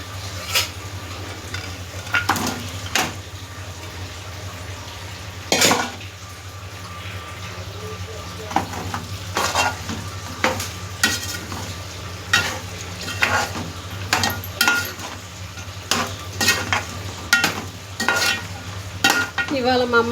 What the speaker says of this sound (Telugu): ఈ మటన్ దీంట్లో వేసేస్తాను ఇప్పుడు.